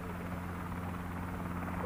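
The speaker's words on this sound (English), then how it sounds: "I don't think our helicopter's doing them any favours." Helicopter passing overhead at a fishing match, a continuous loud rotor thrum with a steady low pulsing drone and no talking.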